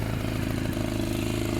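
A boat's outboard engine warms up at idle before a fishing trip on a river, giving a steady, continuous low mechanical drone close by, with no talk over it.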